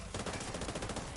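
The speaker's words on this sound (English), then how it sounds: "there was a lot of gunfire near me" Dense, rapid gunfire from the video game The Division 2, a fast rattling burst of shots close and continuous.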